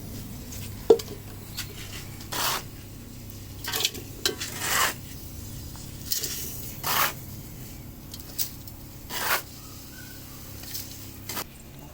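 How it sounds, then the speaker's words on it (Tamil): Soil being scooped and poured into a planter for spinach planting: scattered soft scraping scoops and short gritty pours, several distinct bursts spread apart over a low steady background hum. "மண்ணை வாரி அதில் கொட்டி நிரப்பிக்கணும்."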